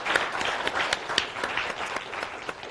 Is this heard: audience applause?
yes